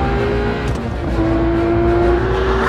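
A 2022 Porsche GT3's high-revving engine drones loudly and steadily throughout, its pitch holding a sustained note with slight rising strain, with no voices present.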